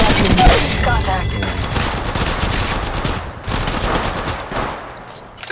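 Rapid automatic gunfire in a first-person shooter, loud close bursts firing almost continuously, with a voice briefly heard under the shooting.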